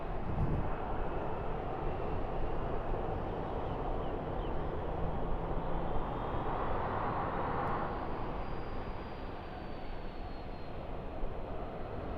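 Virgin Australia airliner taxiing at Sydney Airport, a steady broad engine roar with a slowly shifting whine, continuous and moderately distant for the whole stretch.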